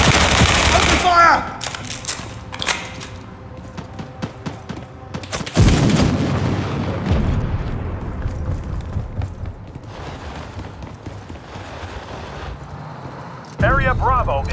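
Machine-gun fire in a war video game crackles in rapid bursts, loudest at the start, then sporadic shots and a heavy blast midway, with a fresh burst near the end, while voices speak over the action.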